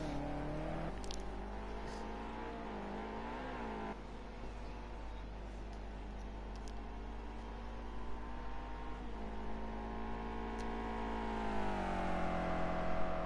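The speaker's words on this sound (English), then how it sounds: "That BMW sounds a lot different from the other cars." A BMW GT3 race car at the Hockenheim circuit holds a steady engine drone with slowly shifting pitch and lower, less rev-heavy tone, heard at a distance under continuous broadband track noise.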